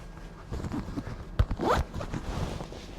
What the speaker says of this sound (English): Real nice zipper. Easy. Easy zipper, folks.